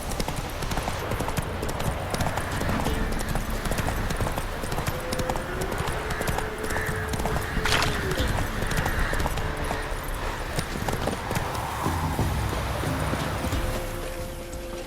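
Roach the horse gallops in The Witcher 3, a steady, loud clip-clop of hooves running continuously, with a brief whinny-like tone and faint game ambience underneath.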